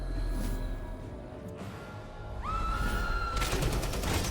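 Explosion effects in the video game Iratus: Lord of the Dead, a crackling burst followed by a rising magical whine and a second sharp crackle, moderately loud with game ambience and no talk.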